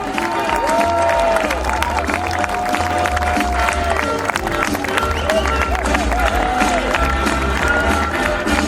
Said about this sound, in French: Je vous demande une ovation et on crie, on tape fort dans les mains